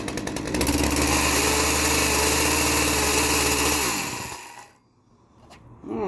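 A cheap secondhand Craftsman chainsaw runs at high revs with a loud, raspy two-stroke buzz that holds steady, then winds down and cuts out, leaving near silence before a brief faint rattle.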